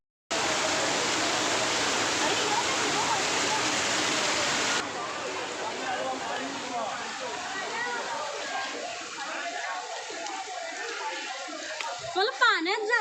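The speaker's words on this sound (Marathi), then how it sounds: "छोटा छोटा म्हणजे खूप मोठा धबधबा" A large monsoon waterfall at the Kanheri caves roars as a loud, steady broadband rush of falling water that fills the whole clip, with faint voices briefly audible near the end.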